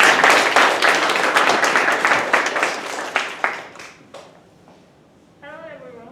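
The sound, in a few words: audience applause for a speech contest speaker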